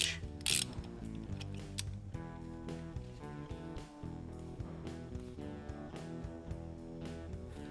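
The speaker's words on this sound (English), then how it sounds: "I like to get it hand tight and then get extra quarter to half turn with my strap wrench." Ratcheting clicks and creaks as a strap wrench tightens a motorcycle oil filter a quarter to half turn past hand tight, a close series of mechanical clicks with metallic rattles.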